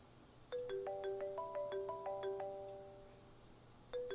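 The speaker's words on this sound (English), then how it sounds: "Damn, I missed the phone call." Ringtone from a phone in the video game Unheard: a clear melodic electronic tune plays as a run of bright tones, then begins again near the end, with no talking.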